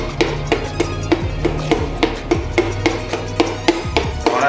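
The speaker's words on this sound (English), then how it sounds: "I can grab my back of my hammer on my mallet and just slowly tap it down." A mallet taps a piston down into the engine bore during a Mazdaspeed3 rebuild, giving a steady series of sharp, close metallic knocks about every third of a second with no talk.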